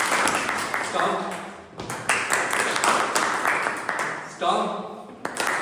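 Room of Toastmasters club members clapping on cue, sustained group applause with brief dips where a leader calls out short commands over it.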